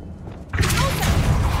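A spell cast in the video game Hogwarts Legacy bursts in suddenly after a quiet moment as a loud, dense whooshing rumble that holds until the clip ends.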